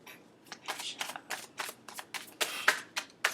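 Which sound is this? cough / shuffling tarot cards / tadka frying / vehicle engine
shuffling tarot cards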